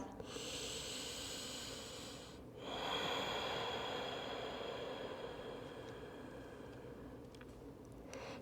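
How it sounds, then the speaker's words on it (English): Close, audible Ujjayi breathing in yoga child's pose, lips sealed. Long, hissing ocean-like breaths pass through the throat, with a brief pause between an exhale and the next inhale, and no talk over them. "Seal your lips, Ujjayi breath"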